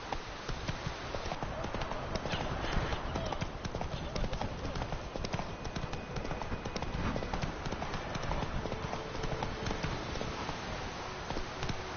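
Hooves of the horse Roach clip-clopping steadily in a video game, a dense, continuous close trotting patter throughout.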